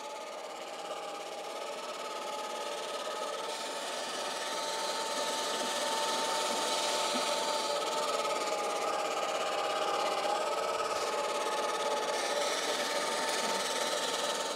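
Swardman Electra 2.0 electric reel mower cutting lawn edges, a steady whirring drone with a faint rising hum, close and continuous throughout without talk.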